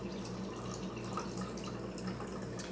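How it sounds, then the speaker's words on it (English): Ginger milk tea poured over boba pearls and syrup into a cup, a steady close liquid trickle with dripping, continuous and fairly quiet for a few seconds. "just pour on that gingery, milky tea mixture"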